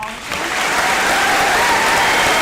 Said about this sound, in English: round of applause for all of